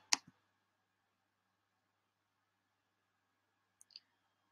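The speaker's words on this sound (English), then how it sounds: "now we'll click on Miniverse" A couple of sharp, quiet mouse clicks on a computer while navigating the MergeVR website, one pair right at the start and another near the end, with near silence in between.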